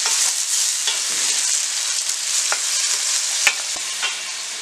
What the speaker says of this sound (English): Season it with a bit of salt just to turn your onions brown quick.